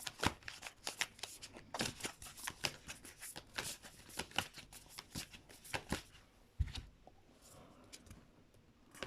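Tarot cards are shuffled by hand in a quick run of soft, crisp riffles and flicks, up close and fairly quiet, with a brief pause toward the end and no voices.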